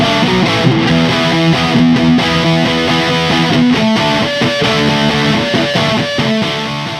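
A Strat runs through an Orange Dark Terror amp, playing loud, continuous distorted chords and riffs with a driven classic rock tone, with no talking.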